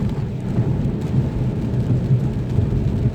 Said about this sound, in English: now we have this torrential downpour